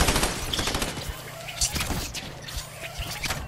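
Gunfire in Fortnite, rapid cracking shots in quick bursts over a busy game mix, with a voice talking faintly underneath.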